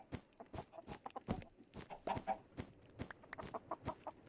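Minecraft chicken clucks sound in a quick, uneven string of short, sharp notes, several birds overlapping at close range, with no talk.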